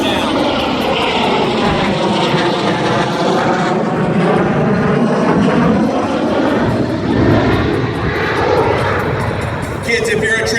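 An F-35 in STOL mode at an air show demo roars loudly and continuously, its jet engine tone sweeping and shifting, while an announcer talks over it.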